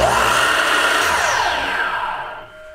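A Makita miter saw's motor spins up to full speed, a loud, steady whine sweeping upward at close range, then trailing off toward the end with no talk over it.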